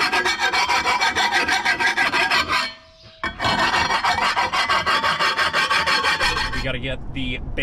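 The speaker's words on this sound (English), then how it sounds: "we got to get the knives sharpened on the baler" Steady back-and-forth rasping of a file sharpening the knives on a hay baler, a dense rhythmic scraping that pauses briefly near the middle, then resumes and fades toward the end.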